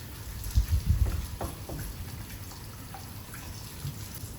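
Hot water runs and splashes while a bird bath is rinsed outdoors during garden work, with a few louder gushes early on, then a steady low trickle with scattered drips.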